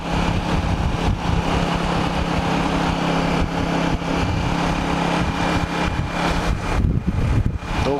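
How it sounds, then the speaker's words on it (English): Steady, loud wind roar buffets the microphone throughout a motorcycle ride on a 1980s-era Honda GL650 along the Lake Huron shore in March, blending with the continuous engine drone and road rumble without any talking. "Windy today, as I've mentioned."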